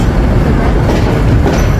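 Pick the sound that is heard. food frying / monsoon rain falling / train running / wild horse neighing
train running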